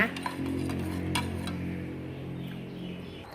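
Spoon stirring green colouring into coconut milk in a bowl for steamed cantaloupe cupcakes, with faint clinks and soft scraping over a steady low room hum.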